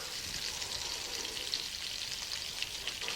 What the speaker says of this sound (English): Browning the meatballs give them a nice flavor too.